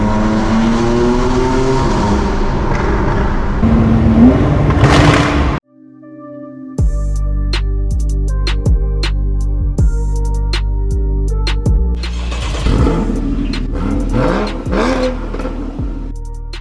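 A tuned 2017 Porsche 991.2 Carrera GTS flat-six revs hard inside a tunnel, loud and echoing, with rising and falling sweeps, a brief cut to near silence, then sharp crackling pops on the overrun.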